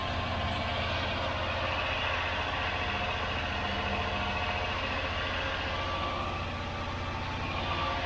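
A Rover V8 engine idles steadily at around 1500 RPM, a close, even, continuous rumble with a fine ticking texture from the hydraulic tappets, running alone with no voices.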